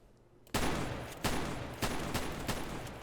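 Four loud SPAS-12 shotgun blasts in the SA-MP game, each a sharp broadband crack with a decaying tail, spaced roughly two-thirds of a second apart after a quiet start.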